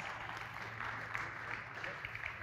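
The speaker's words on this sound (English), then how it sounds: "Thank you all with a big applause" Audience applause after a defence and security technology panel at an expo, a faint, even patter of clapping over a low hum.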